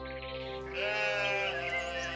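A mountain goat bleats in a long, steady, fairly loud harmonic cry that swells slightly past its midpoint and carries on without pause, with no talk over it.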